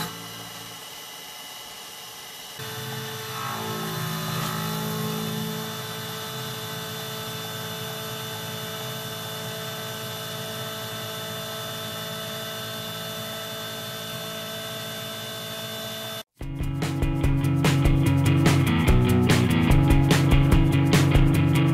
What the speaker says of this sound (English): just going to go ahead and start facing this off